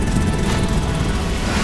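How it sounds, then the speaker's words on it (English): A car engine starts up in the Roblox Piggy horror game, a steady, loud, rumbling mechanical drone with a choppy, pulsing texture that continues unbroken throughout, with no voices over it. "Is the car starting?"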